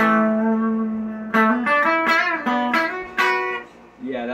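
Distorted electric guitar, a Kurt Cobain SG through a distortion pedal, rings out in sustained, gritty notes, shifting pitch a few times with sharp attacks, loud and close.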